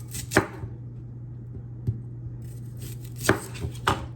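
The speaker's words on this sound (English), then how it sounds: "So I'm just gonna slice these, and you can slice it any way you like. I'm just gonna do rings." A knife cuts freshly picked garden vegetables into rings on a cutting board, a few sharp close chops spaced irregularly with quiet pauses between them.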